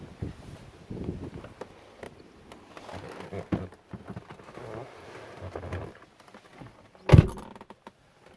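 Car door of a BMW M3 E92 opening, a sharp loud clunk near the end, preceded by quieter handling and rustling sounds close by.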